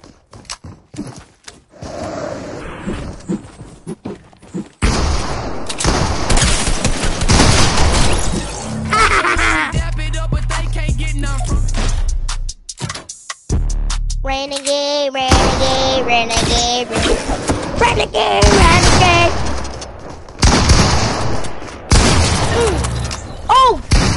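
Gunfire in a PS4 video game during a live broadcast, sharp loud bursts scattered through a busy, dense mix alongside crashing effects and a voice talking over the action.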